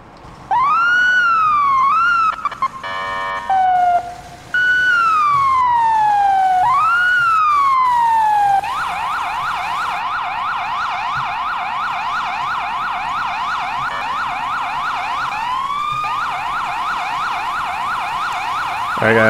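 An ambulance siren in the video game EmergeNYC wails loud and close. Slow rising and falling sweeps shift into a fast, steady yelp that runs for most of the clip, with no talking.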